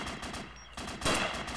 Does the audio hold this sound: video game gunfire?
yes